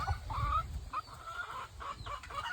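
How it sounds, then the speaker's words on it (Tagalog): A borrowed rooster on a farm clucks and calls in a run of short, close, fairly loud bursts over steady outdoor background noise, with no one speaking. "Ito pong barakong to ay hiniram lang po kila Apong Luling"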